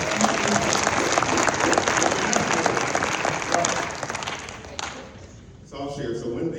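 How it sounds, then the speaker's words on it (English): An audience at a realtor gathering breaks into sustained clapping that stays dense and steady, then thins and fades toward the end as a voice begins speaking. "Give a round of applause."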